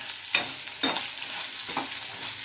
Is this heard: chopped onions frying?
yes